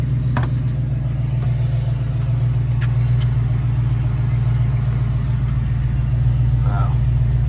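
A 1966 Ford Mustang engine idling with a steady deep low rumble throughout, a few faint clicks and a brief tone riding over it.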